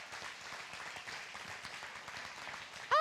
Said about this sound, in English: Let's give a huge round of applause for all of our friends that gave